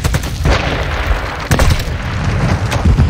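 A grenade blast in Warzone 2.0 on the Shoot House map, heavy booming bursts over steady loud combat noise, with a strong thump midway and further pops, no talk.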